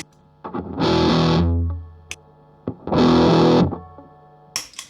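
Two sustained, heavily distorted chords from a guitar through an Electro Harmonix Op-Amp Big Muff reissue fuzz pedal with its tone control switched off ring out and fade, separated by short muted plucks and string noise, close and loud.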